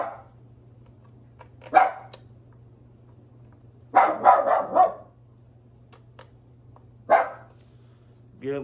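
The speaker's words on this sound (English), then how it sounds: "Again, I apologize for my dogs." Dogs barking indoors in bursts, one single bark, then a rapid cluster of several barks, then another lone bark, fairly close over a steady low hum.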